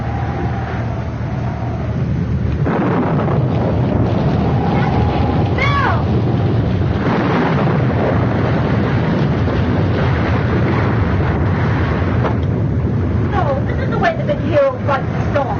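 A storm at sea roars with steady loud wind and churning waves as a continuous dense wash, while voices shout over it.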